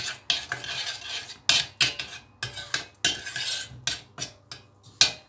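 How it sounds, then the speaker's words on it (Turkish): A utensil scrapes and clinks rhythmically against a pan while food is sautéed with salt, with repeated sharp stirring strokes over a faint sizzle. "Ve güzelce kavuracağım şimdi."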